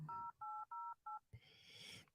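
Telephone keypad dialing while calling in, four clear evenly spaced touch-tone beeps followed by a brief burst of hissy line noise, close and alone.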